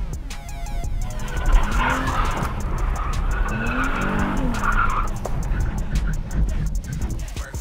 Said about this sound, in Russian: я просто пытаюсь реально чуть газануть сильнее, и я правда не могу справиться с машиной